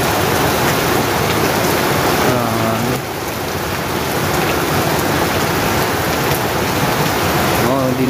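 Heavy rain pours steadily while water gushes out of a hole in a broad, constant roar, loud and close, with brief bits of voice over it.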